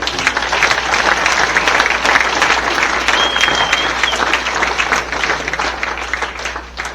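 A crowd at a baseball association hall of fame induction ceremony gives a loud, sustained round of applause for a 1997 state runner-up team, a thick, even wash of clapping with no break.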